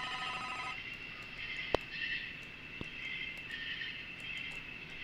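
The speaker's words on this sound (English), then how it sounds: "I heard the phone ring" A telephone rings faintly in a quiet room, a soft trilling bell at the start, then two sharp clicks and a low hum.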